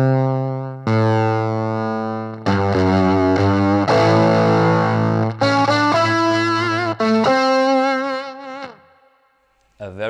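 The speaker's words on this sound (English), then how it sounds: "when I dial in this control here, I have more fuzz" Electric guitar played through a Cusack Screamer Fuzz pedal with the fuzz turned up, ringing sustained distorted chords and single notes that change every second or two, loud and alone, then fading out near the end.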